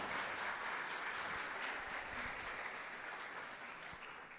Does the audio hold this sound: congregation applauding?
yes